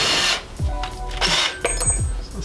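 A power drill turning a three-stage thread tap to cut threads for custom side skirts on an Audi A3 track car, heard up close as a loud whir with short bursts and pulses of cutting noise.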